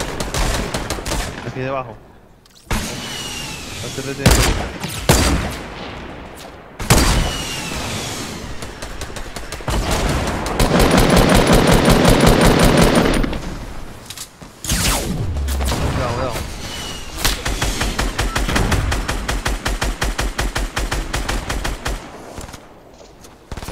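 Gunfire in the video game Fortnite: bursts of rapid automatic shots and single cracks, some loud and close, others farther off, with a long sustained volley mid-way and engine noise at times, while players talk over it.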